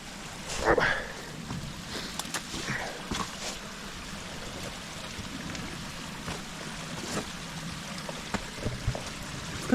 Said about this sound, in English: Going down this creek